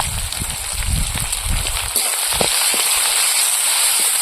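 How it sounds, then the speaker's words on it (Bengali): Fish roe fries in oil with a dense, continuous spattering crackle and scattered sharp pops, loud and close, with no talking. "তেল পটকা ফাটছে নাকি ফটাস ফটাস করে"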